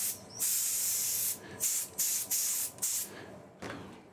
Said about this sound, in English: I'm just going to use the compressor to get rid of some of the dust out here now.